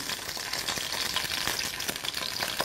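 Beef sizzles steadily in a hot pan, a dense continuous crackle with small spits and pops throughout, close and fairly loud, with no voices.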